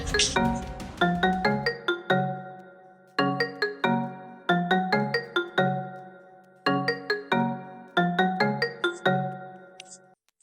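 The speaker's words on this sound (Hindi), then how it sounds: "तुम्हारा फोन बज रहा है" A melodic phone ringtone plays a repeating chime pattern three times, loud and close, with short pauses between phrases and no talking.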